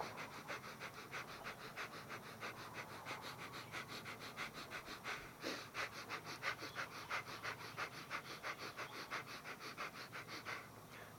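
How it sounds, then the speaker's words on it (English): Rapid rhythmic panting breaths from a Kundalini yoga breathing exercise done by an open window, a steady fast pulse of short forceful exhales and sniffing inhales repeating for the whole stretch, close and fairly quiet. "You open the windows and then you start breathing."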